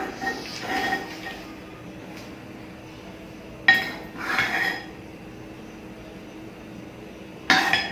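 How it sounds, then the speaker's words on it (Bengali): Clay plates being arranged, producing a few clinks and knocks of earthenware at moderate loudness over faint room noise, with no speech. "এই যে মাটির প্লেট বা এইসব এগুলো অ্যারেঞ্জ করছে"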